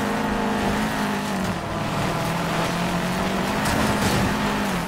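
A car in Need for Speed Payback drives off-road, its engine a steady mid-pitched hum with slight pitch shifts as it moves, alone at moderate level.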